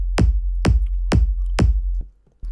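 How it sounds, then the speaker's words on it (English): Four evenly spaced, punchy electronic kick drum hits, two layered samples sounding together, deep booming low end with a sharp click attack, then a brief gap before the pattern resumes. "So what you hear here is the combination of these two kicks."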